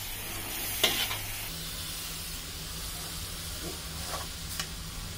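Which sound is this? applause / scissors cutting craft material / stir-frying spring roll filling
stir-frying spring roll filling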